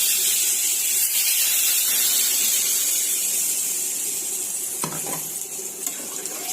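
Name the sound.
curry cooking on gas stove, sizzling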